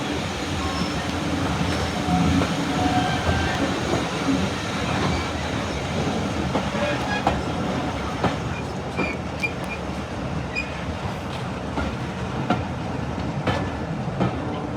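Heritage diesel train rolling into Hampton Loade station on the Severn Valley Railway during a spring diesel festival, a steady rumble of wagons with rhythmic wheel clatter and occasional squeals, heard from inside a carriage.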